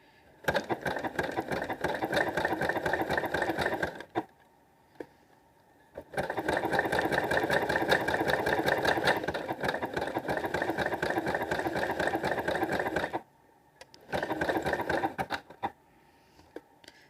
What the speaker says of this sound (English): When you're sewing, especially for stitch or stretch, you do not hold on to your fabric and cause it to stretch.